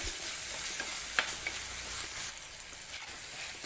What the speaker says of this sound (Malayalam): ഉള്ളി ഒന്ന് വഴറ്റി കൊടുക്കണം